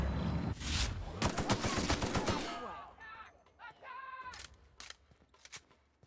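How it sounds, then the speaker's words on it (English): Loud bursts of assault rifle fire in the sci-fi shooter The Outer Worlds, rapid shots packed into the first few seconds, then sparser single cracks and metallic clicks as the fight continues. "this assault rifle's pretty damn good as well"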